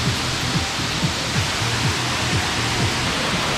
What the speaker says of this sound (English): Yeah, we are at the waterfall here.